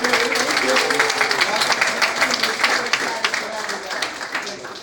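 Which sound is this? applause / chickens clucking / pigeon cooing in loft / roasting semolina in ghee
applause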